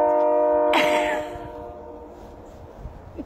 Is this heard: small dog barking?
no